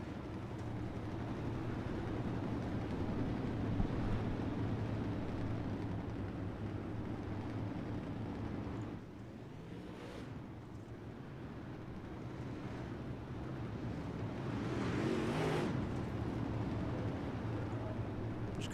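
UMP Modified race car engines at Limaland idle and burble on low revs under a yellow flag, a dense steady rumble with occasional crackles and bangs, a brief lull midway, then a swelling pass.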